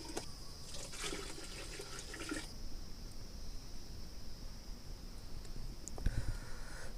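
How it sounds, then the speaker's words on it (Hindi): Water is poured into a cooking pot on a stove in a mountain-village kitchen, a soft continuous splashing over steady background hiss, faint and fairly close, with no talking. "थोड़ा पानी डालते हैं"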